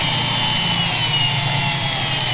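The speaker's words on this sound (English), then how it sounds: "I'm going to drill them out, put clinch nuts in it" Power drill boring holes through steel plating on a Mk2 Ford Escort Mexico during a rebuild, a loud steady whine running continuously and close up with no pauses or talk.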